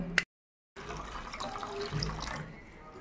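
Water poured into a blender jar holding raw mango with chaat masala, for a roasted raw mango sherbet: a steady, close splashing pour lasting about two seconds, after a short click and a brief silence.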